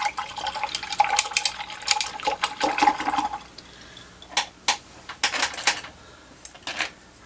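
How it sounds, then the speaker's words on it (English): A brush used for acrylic painting is swished and rinsed in a container of water, sloshing and splashing in bursts, then a pause followed by several short separate dips and swirls. "I'm going to wash my brush."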